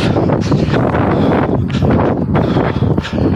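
Strong wind buffets the microphone with loud, gusty rumbling roar throughout, no voices.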